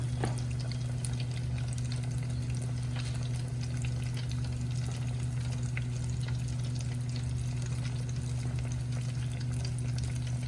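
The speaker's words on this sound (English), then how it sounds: "Have a bit of a zoom in and watch a sizzle." Steady, dense sizzling of chicken deep frying in hot oil, a continuous crackling hiss with a low hum beneath, close and fairly loud throughout.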